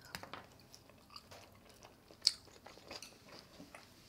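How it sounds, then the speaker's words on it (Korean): Someone quietly chews Korean sundae, a blood sausage, dipped in ssamjang, with soft irregular bites and moist mouth sounds close to the mic and one sharper click in the middle. "순대에 이렇게 쌈장이랑 고추, 양파 같이 먹으면 맛있거든요"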